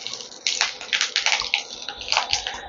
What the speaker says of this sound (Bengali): এর সাথে আমি দিয়ে দিচ্ছি একটু কারি পাতা।